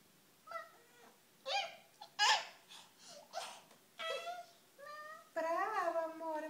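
A young child imitates a cat with a string of high, wavering meows and mewling cries, some breathy or laughing, in short bursts with gaps, close and clear.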